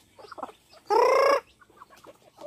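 A loud, sustained squawk from a chicken stands out among softer, scattered clucks from nearby free-range chickens at afternoon feeding on a mountain farm, close to the listener.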